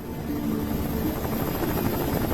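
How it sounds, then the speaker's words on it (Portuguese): Rescue helicopters approach an air crash site, a steady, loud rotor drone with a low buzzing thrum that holds constant throughout, with no talking. "Demora 3 horas para os helicópteros de resgate chegarem."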